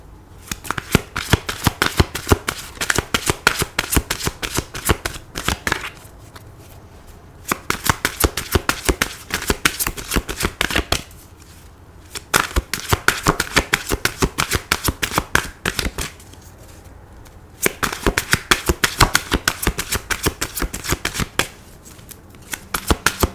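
Tarot cards are shuffled in repeated crisp bursts of rapid riffling flutter, close and fairly loud, each run lasting a few seconds and separated by short pauses, with no talk.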